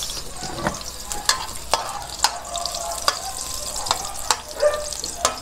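Chopped onion sautéing in a little olive oil as a Filipino ginisang upo with ground meat is started, a steady soft sizzle broken by several sharp clicks and scrapes of a utensil stirring against the pan.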